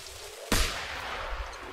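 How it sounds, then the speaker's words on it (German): A cannon fires once in the video game Return to Monkey Island, a sudden loud blast that fades into a lingering rumble. "Glühend, die Kanone abfeuern."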